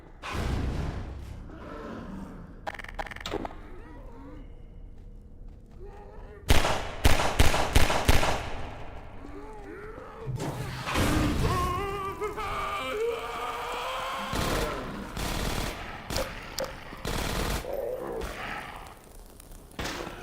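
Gunfire and combat noise in the video game Half-Life 2: Episode One, with scattered rapid shot bursts and heavy thuds between quieter stretches of rumbling ambience, with voices present at times.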